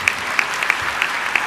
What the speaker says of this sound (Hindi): देखो आप लोग जोरदार ताली बजाओ दीपा के लिए।